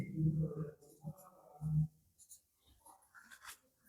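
A teacher writes a definition on a board during a Class 8 maths lesson, producing soft scratchy strokes in short bursts, alternating with brief quiet gaps and faint background noise.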